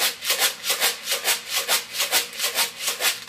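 A homemade rhythm shaker, a closed container filled with dried green peas, shaken in a steady, even rhythm that gives about a dozen crisp, rattling swishes close up, with no voices.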